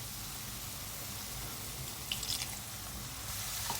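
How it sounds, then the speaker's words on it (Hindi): Water is poured into a pan of frying spices (coriander, cumin and chaat masala) for chickpea chaat, giving a steady wash of watery hiss with a few brief splashy drips near the end. "2 टेबल स्पून पानी डालूंगी इसमें ताकि मसाले जले नहीं।"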